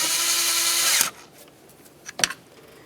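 A power tool whirs loudly for about a second while loosening valve cover bolts on a Pontiac Vibe 2.4L, then stops, followed by brief clinking and a short burst near the end.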